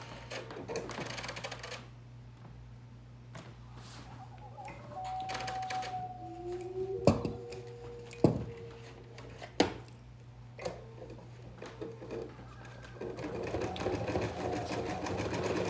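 Domestic sewing machine stitching a hoodie, with a steady mechanical whir and a few sharp clicks and knocks partway through, heard up close in a quiet room.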